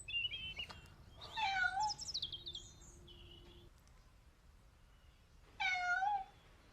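A white cat meows twice, a drawn-out rising and falling cry near the start and another a few seconds later, with faint bird chirps in a quiet outdoor background.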